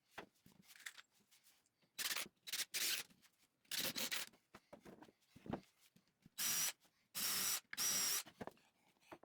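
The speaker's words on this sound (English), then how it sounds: "Drill through the leg and into the frame." Power drill boring through a hardwood pallet leg into the frame, loud bursts of a few seconds each, about six of them separated by quieter handling noise and pauses.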